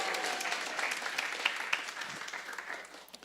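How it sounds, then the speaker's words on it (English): A Sunday feast audience applauding the arrival of a visiting swami, a dense steady wash of many hands clapping at moderate distance that gradually fades toward the end. "Please, round of applause."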